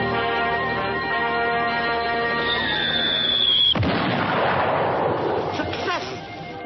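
A loud cartoon explosion wipes out a catnip factory, one sharp boom breaking over a sustained musical score and rolling into a noisy, crackling rumble that fades out behind continuing music.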